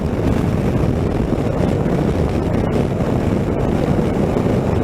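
Loud, steady wind buffeting the microphone during a motorcycle demo ride in Daytona, a dense roaring rumble that never lets up.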